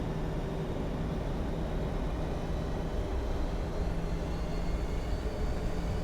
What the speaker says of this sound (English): We're trying to get as much runway as we can for this takeoff.